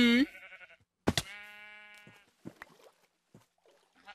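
Sheep in the video game Minecraft giving several short, clear bleats in quick succession, close and fairly quiet against a near-silent background, with faint game noises scattered around them.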